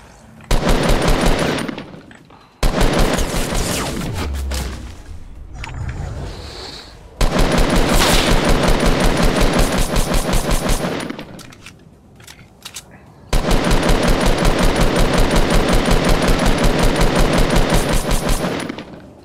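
Fortnite gunfire, long bursts of rapid automatic shots in three loud sustained stretches broken by short pauses, with players talking over it.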